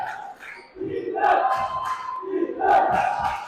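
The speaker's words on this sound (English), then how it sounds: "you hear that JB over there hollering defense too" A crowd at a high school boys varsity basketball game between Eastbrook and Elwood hollers and chants in a gym, with loud, surging shouts rising in two waves.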